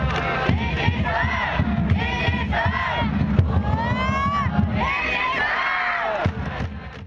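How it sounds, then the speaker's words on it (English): Crowd in the stands at a Japanese baseball game chanting and cheering in organized unison, loud and continuous, with rhythmic massed voices rising and falling in call-like phrases. "The cheering was infectious,"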